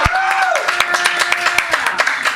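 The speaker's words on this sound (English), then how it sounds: "Let's have some applause." Studio audience clapping in a live music TV studio, a handful of loud, uneven claps close by over a lingering sustained tone, no voices.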